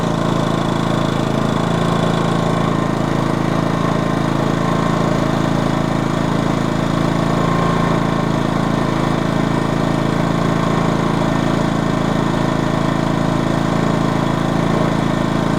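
A Black Diamond inverter generator runs steadily on a farm with its exhaust pointed at a steel shipping container, giving a constant, loud mechanical hum with no change in pitch or level throughout.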